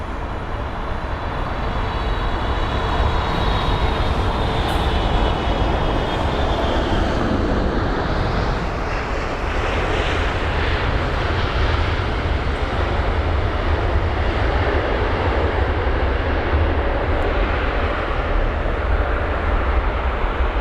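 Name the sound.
United Airlines Boeing 767 airliner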